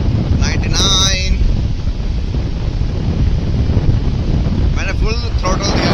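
A Honda SP motorcycle loaded with luggage runs at full throttle at about 100 km/h, giving a steady, loud roar of engine and wind rush with no breaks, and brief speech near the start and end.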